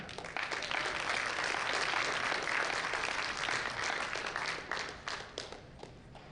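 Audience applause for a gold medal winner at a national powerlifting meet: a steady wash of many hands clapping, moderately distant, sustained and then tapering off toward the end, no voices over it.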